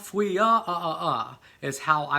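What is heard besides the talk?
No distinct noise like a dog, phone or traffic.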